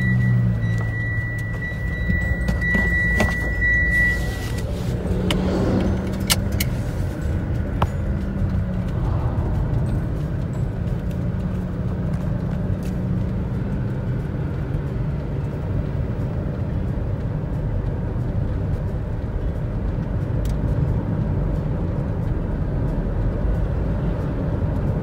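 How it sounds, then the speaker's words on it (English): A Mitsubishi with a transmission secondary pressure control fault (P0776) on a test drive gives a steady, close interior drone of engine and road noise, unbroken for about 25 seconds, with a few faint clicks early on and no talk. "I'm going to test drive it and see if we're going to have the same issue with the driving condition."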